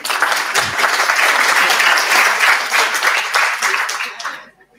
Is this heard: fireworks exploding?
no